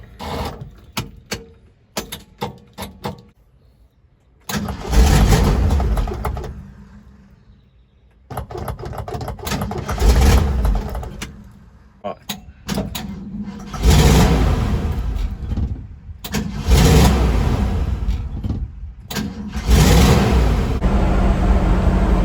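A 1955 Ford F100 engine, cranked after sitting all winter with a battery booster, gives several short sputtering bursts separated by pauses, then catches and revs in longer, louder stretches close by.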